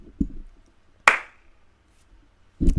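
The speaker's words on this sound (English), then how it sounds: "So one action is a clap." A single sharp hand clap stands out mid-clip, close and loud, with faint soft sounds before it and a louder thump near the end.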